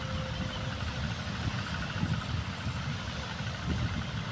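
Steady low engine drone of a trawler boat on the Shitalakshya river, rumbling continuously at moderate distance with slight pulsing swells and no voices.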